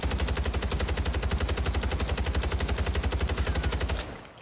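A rapid-fire gun empties a long, steady burst in Rebirth Island, with evenly spaced, punchy shots rattling for about four seconds before stopping abruptly.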